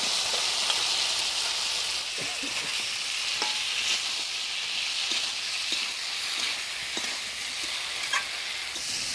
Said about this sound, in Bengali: এবার ভাজিয়ে রাখা আলু ফুলকপি দিয়ে দেব।